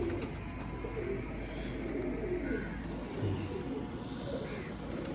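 A Teddy pigeon pair coos softly and low in a loft, the calls faint under a steady background hum.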